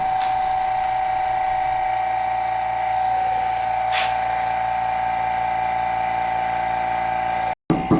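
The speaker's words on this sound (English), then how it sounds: "You just put a little bit of pressure down and that kicks on the vacuum." Vacuum pump on an investment casting chamber degassing investment for silver and bronze sea urchin castings, a steady high electric whine with a low hum beneath, one brief tap partway through and a short cutoff near the end.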